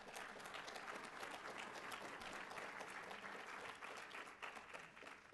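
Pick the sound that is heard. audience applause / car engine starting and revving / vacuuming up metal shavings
audience applause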